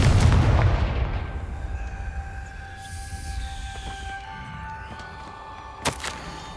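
Confringo fire-spell blasts in the game Hogwarts Legacy: a heavy booming explosion at the start that rolls off into a long rumbling decay, followed by a sharp impact crack near the end.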